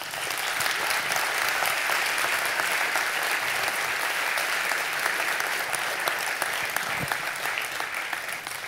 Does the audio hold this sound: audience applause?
yes